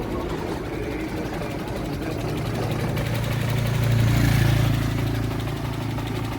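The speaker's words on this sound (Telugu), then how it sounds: "ఇంజిన్ అయితే చాలా స్మూత్గా ఉంది, చాలా అంటే చాలా స్మూత్గా ఉంది" A 2011 Toyota Liva V petrol car's engine idles with a smooth, steady low hum and a faint rise in revs partway through, heard close and with no talk.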